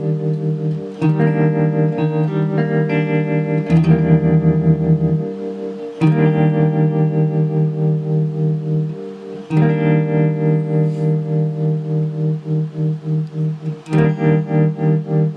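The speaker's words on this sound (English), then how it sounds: "I love the sound of this 1963 power tube style tremolo" Electric guitar played through a 1963 power-tube bias style tremolo pedal: sustained chords pulse in a warm, wobbly rhythm, each strum swelling and throbbing loudly and alone, several chord changes in succession.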